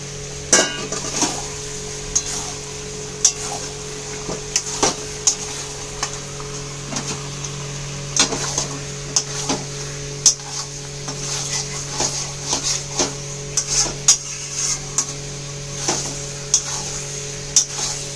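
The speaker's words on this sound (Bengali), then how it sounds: "এবার এই যে মেখে রাখা এই চিকেনটা এর মধ্যে দিয়ে দেব।" Marinated chicken fries in a pan for chicken do pyaza, a soft constant sizzle broken by regular sharp taps and scrapes of a spoon stirring against the pan.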